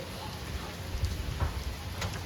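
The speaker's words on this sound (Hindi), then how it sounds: "यहाँ पे बारिश स्टार्ट हो चुकी है।" Steady rain falls as a constant wash of patter, with a few louder drops and splashes standing out nearby.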